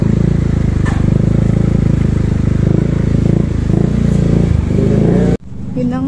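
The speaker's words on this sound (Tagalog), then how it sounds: "Sumakay na ako sa motor para lumiban" A motorcycle engine drones steadily while riding, loud and close with a continuous low rumble, then cuts off abruptly near the end as speech-like sounds follow.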